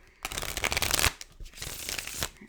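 Tarot cards are shuffled by hand in a close, continuous riffling and flapping patter that runs for a couple of seconds without pause.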